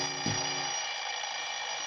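A sustained alarm clock ring from a 1948 old-time radio mystery drama, with a continuous bright buzzing bell tone holding steady throughout and no voices.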